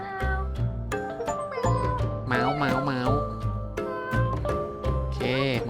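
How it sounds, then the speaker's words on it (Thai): A cat found while searching in Bali meows several times close by, with drawn-out wavering cries, over a steady low background rumble and occasional talking. "มีน้องแมวตัวนี้ด้วย"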